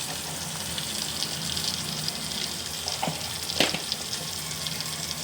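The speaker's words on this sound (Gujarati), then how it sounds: "થોડી વાર સાતળીશું" Spices and potato filling for aloo paratha sauté in a hot pan with a steady, soft sizzle and hiss, plus a few faint stirring scrapes, heard close and alone.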